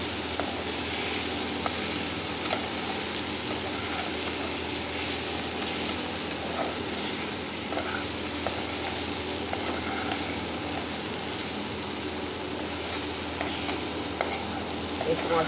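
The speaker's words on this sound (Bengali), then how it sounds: "হলুদ দিয়ে দিলাম, একটু হলুদ গুঁড়ো দিয়ে দিলাম, এইগুলো আমি এবার কষে নেব।" Spices with turmeric powder frying in a pan, a steady, dense sizzle that runs without a break while a spoon stirs and scrapes through it now and then, close and fairly loud.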